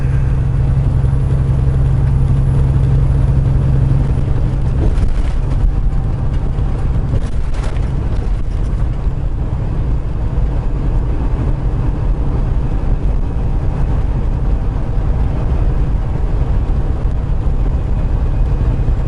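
A truck engine rumbles steadily and loudly while driving, a low continuous drone with a brief shift in tone midway, no voices over it.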